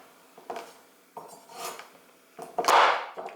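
Santoku knife pushed down through a pumpkin on a board, a few close, hard knocks and crunching scrapes with blade clatter, the last one loudest and longest.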